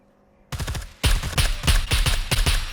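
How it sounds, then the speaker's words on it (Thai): Bursts of automatic gunfire ring out close by in the survival shooter SCUM on a PvP server, rapid loud shots in repeated volleys with short gaps after a quiet start. "มีคนยิงอยู่ข้าง ๆ พร้อมกัน"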